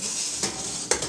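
A removable metal gas trivet lifted off a home canning pot gives a couple of short, sharp clinks, fairly close, over a steady kitchen hiss.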